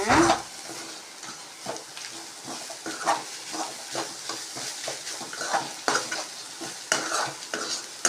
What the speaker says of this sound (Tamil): நல்லா சுருள சுருள கிண்டிடுங்க